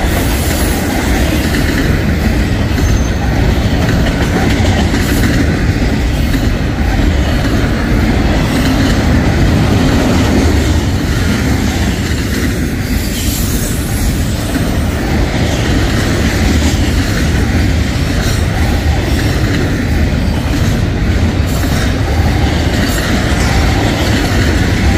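A BNSF/Union Pacific eastbound Megastack freight train on the Kansas Sub passes close by as a loud, continuous roar of rolling wagons and rumbling wheels with steady clatter, no voices, running unbroken throughout.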